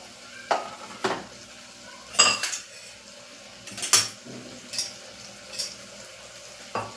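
A spoon scrapes and clanks against a pan while masala is stirred for a guvar and potato curry, sharp metallic strokes repeating every second or so over a soft background sizzle.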